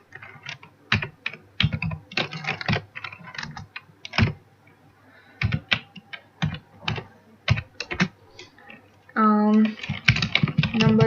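Keys clatter on a computer keyboard in quick irregular bursts with short pauses, close and crisp, and a voice speaks briefly near the end.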